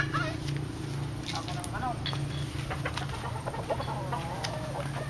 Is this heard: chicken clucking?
yes